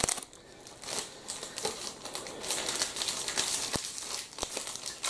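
Plastic LEGO minifigure blind bag being torn open, a steady close crinkling and crackling of thin plastic with sharp tearing snaps throughout, no talking.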